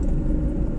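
Steady low rumble fills a car cabin while driving, a dense, close road-and-engine drone with a faint rattle, continuous for under a second with no talk.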